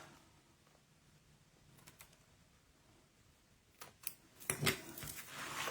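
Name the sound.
scissors snipping off ribbon for a notebook folio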